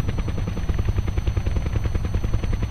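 Helicopter in Kerbal Space Program flying with a rapid, even rotor chop over a low engine hum, steady and close throughout.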